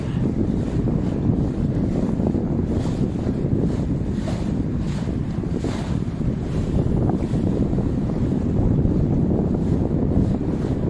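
Strong wind buffets the microphone in a steady, heavy rumble beside the Seine in Paris, with water and waves washing underneath throughout; no voices.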